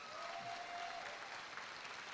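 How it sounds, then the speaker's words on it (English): A graduation ceremony audience applauds student speakers, steady crowd clapping heard faint and distant throughout the short stretch. "Let's give them another round of applause."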